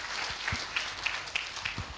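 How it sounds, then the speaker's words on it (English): Applause for an ambassador at a university public lecture, thin and uneven, with a handful of distinct individual claps standing out over a quieter bed of clapping in the hall. "I would like the audience to give him applause."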